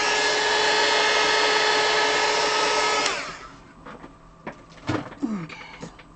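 A heat gun blows a loud, steady roar over melting Crayola crayon, then switches off about halfway; afterward faint handling noises, light scraping and a brief voice follow.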